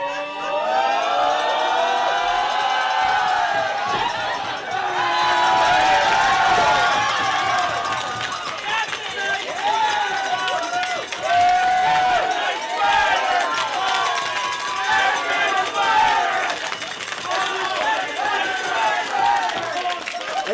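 Wrestling show crowd cheering and shouting, a dense continuous roar of many voices with whistles and a swell of noise early on, lasting throughout.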